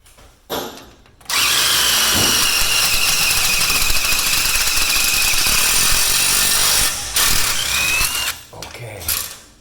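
Power drill driving self-tapping screws into a flush panel garage door, a loud sustained whine for about seven seconds after a brief start, then shorter bursts near the end, with no talk over it.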